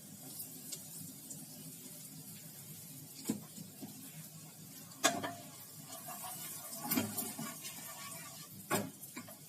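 Cumin seeds and asafoetida sizzling in hot oil for a tempering, a steady soft crackle with a few sharper clinks of a spoon stirring against the pan, close and alone.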